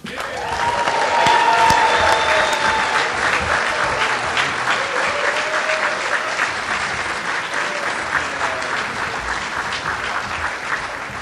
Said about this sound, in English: I really want to have a great round of applause for this young lady, Bab Santine.